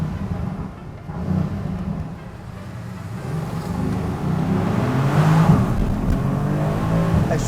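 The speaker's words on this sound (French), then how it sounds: "En fait je crois que dès que tu lui en mets de plus en plus, il pète de plus en plus." A Mercedes GLC 63S engine pulls hard through a tunnel, its low rumble swelling steadily and reverberating off the walls, loud and continuous with no voices over it.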